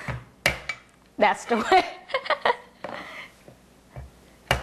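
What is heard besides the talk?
big cleaver chopping radish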